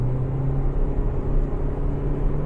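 Mitsubishi ASX engine with an older CVT transmission under hard acceleration, giving a steady loud droning hum that holds one pitch without clear gear changes.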